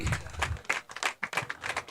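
Scattered clapping from a small crowd at a trophy presentation, uneven and moderately loud, with a few bursts of claps over about two seconds.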